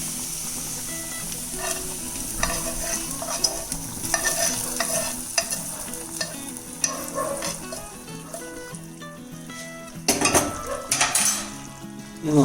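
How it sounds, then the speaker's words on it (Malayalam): Curry leaves being stirred into a Kerala-style prawn curry in a pan make a soft sizzle with repeated spoon scrapes and clinks against the pan, growing louder and busier toward the end. "നന്നായിട്ടൊന്ന് ഇളക്കി കൊടുക്കാം."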